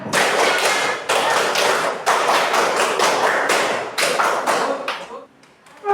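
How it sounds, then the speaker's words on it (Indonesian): A classroom of children performs a rhythmic spirit clap in unison, repeated bursts of sharp claps and taps in steady groups, loud and close, with a brief pause near the end before one last clap. "Tepuk semangat."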